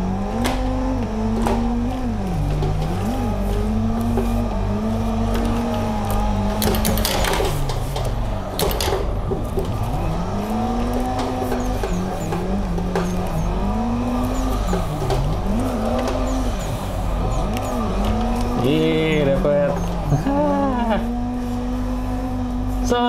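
Drift car in a racing sim at the Mijen circuit in Semarang, engine revving loud and continuous with pitch swinging up and down through a 360 spin, with brief bursts of tire squeal.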